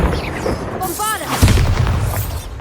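A Bombarda spell blast in Hogwarts Legacy on PS5: a heavy booming explosion with a burst of crackling debris, following a rising magical whoosh, loud and close amid game noise and talk.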